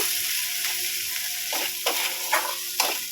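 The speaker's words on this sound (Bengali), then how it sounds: "এবার মশলাটা একটুখানি মানে এটা একটু ভাজা ভাজি মানে একটু ভাজা করে নেব" Crushed spice paste fries in a pan for a fish curry, giving a steady close sizzle with a few short stirring scrapes breaking through near the end.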